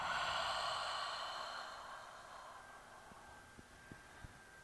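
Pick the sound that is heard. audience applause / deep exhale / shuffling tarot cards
deep exhale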